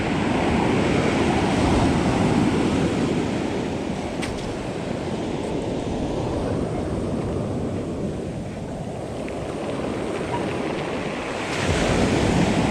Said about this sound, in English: the waves weren't so rough so we could easily detect them